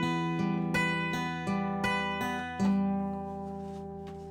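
Single guitar notes picked one after another at a moderate, even pace, each ringing briefly before the next, close and clear.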